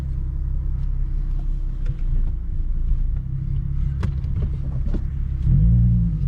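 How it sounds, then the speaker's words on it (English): A Ford Mustang being driven home after a water pump repair, heard from inside as a low steady engine and road rumble with small bumps and knocks, swelling briefly louder near the end. "So I'm driving it home right now"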